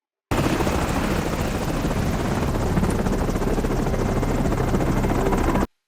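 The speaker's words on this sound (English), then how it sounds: "Is that a military helicopter?" Loud, steady military helicopter rotor noise with a dense whirring roar, starting and stopping abruptly, with no voices.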